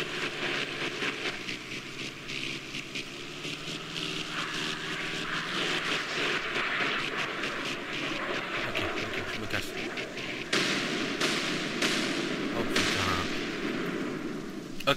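A light airplane in GTA San Andreas roars with a steady droning engine that builds as it lifts off on its own, loud and continuous with a few sharp bangs near the end.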